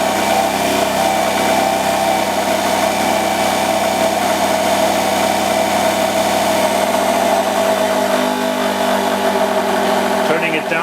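Electric motor on a dyno test stand under load, run at about 2,000 rpm near stalling torque: a loud, steady whine and hum, continuous throughout, dropping slightly in the final seconds.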